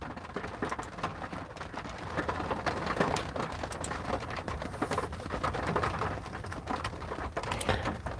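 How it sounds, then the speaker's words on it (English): Steady rain pours outside in a dense, continuous patter with scattered sharper drops and ticks, moderately loud and unbroken throughout. "You hear this rain, right?"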